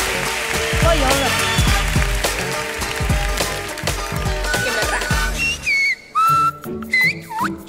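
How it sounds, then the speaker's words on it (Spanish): Clear melodic whistling by children on a talent show stage, rising and sliding in pitch, the tune carried over busy background music and voices, then a few louder solo whistled notes at the end. "Silbar es bueno."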